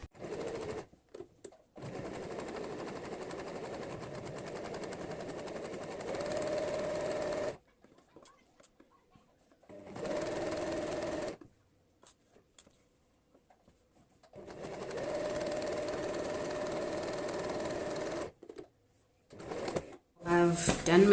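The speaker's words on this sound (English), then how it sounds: "Okay, so let's go to the sewing machine." Sewing machine running a straight stitch on a high-waist denim skirt made from jeans, in several bursts of steady rapid whirring separated by pauses, close and fairly quiet with small clicks between runs.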